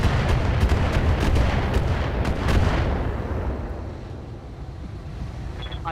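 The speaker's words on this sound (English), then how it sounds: "Oh, missiles." In the BattleTech mech game, a missile barrage slams into mechs: a loud rapid cluster of explosive impacts for a few seconds that then fades into a lower rumbling tail.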